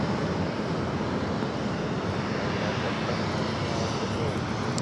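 A British Airways airliner rolls down runway 25 right for takeoff at LAX, a steady, dense engine roar holding even and fairly loud throughout without breaks.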